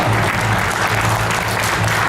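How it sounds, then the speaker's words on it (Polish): Steady, dense applause from a gala audience fills the whole stretch, loud and continuous without any pauses. "Gorące brawa."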